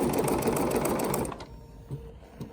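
A Bernina sewing machine stitches steadily at close range with a dense, fast mechanical whir for about a second, then stops, leaving only faint clicks and quiet handling.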